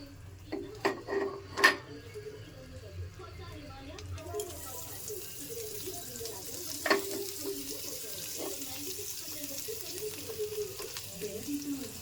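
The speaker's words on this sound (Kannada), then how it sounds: "ಸ್ವಲ್ಪ ಸಾಲ್ಟ್ ಹಾಕೊಂಡು ಚೆನ್ನಾಗಿ ಫ್ರೈ ಮಾಡ್ಕೊಳ್ಳಿ." Masala dry fruits fry in a pan with red chilli and salt, a steady soft sizzle running throughout with a few louder clinks and scrapes of a utensil near the start and another around the middle.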